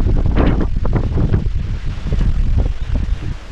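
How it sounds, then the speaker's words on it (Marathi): Strong monsoon wind sweeps across Sudhagad hill fort, buffeting the microphone in loud, continuous rumbling gusts with no talking. "खूप मोठ्या प्रमाणात वारा देखील सुटला आहे"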